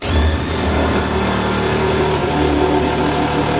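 A DeWalt DCF813 10.8 volt 3/8 impact wrench runs weakly with no power, giving a steady, close motor whine and buzz that continues without pause and carries no clear impact hammering.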